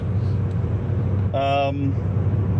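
A car rolls along a road at night after its fuel pump was pulled and refitted twice, a steady low engine and tyre rumble filling the background, with a brief harmonic whine or horn-like tone rising midway through.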